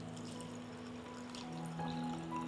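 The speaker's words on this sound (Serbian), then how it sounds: "Sipat ću vodu u tegle" Water poured into glass jars for home canning, a steady close trickle and stream of liquid that fills the jar and rises slightly in pitch, quiet and without speech.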